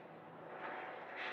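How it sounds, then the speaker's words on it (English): A low-flying plane passes overhead as a steady broadband engine roar that swells slightly, distant to mid-range and fairly faint, with no voices. "That's definitely a plane of some sort. Flying very low."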